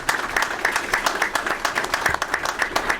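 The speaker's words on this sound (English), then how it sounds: "Give them a round of applause, please." An audience at a university basketball press conference applauds a team standing up, with steady, dense clapping throughout, close and even in loudness.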